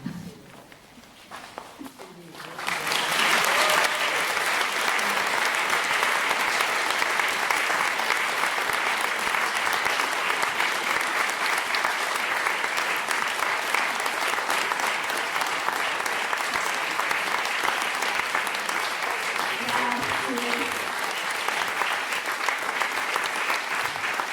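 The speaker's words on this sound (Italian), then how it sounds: "Grazie per i vostri applausi" After a theatre performance, a brief quiet gives way to loud sustained audience applause that holds steady for over twenty seconds, with occasional voices underneath.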